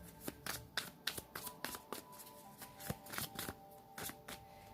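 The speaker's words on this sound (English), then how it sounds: "Keep going. Keep shuffling." Tarot cards shuffled by hand in a quiet room, a steady run of crisp riffling bursts and soft slaps repeating about twice a second, close and clear with no talk.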